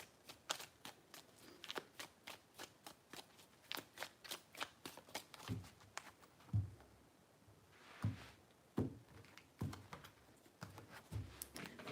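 A tarot deck is shuffled by hand close up, quiet, with a rapid run of crisp card flicks followed by slower, thumping riffles and taps, no voice.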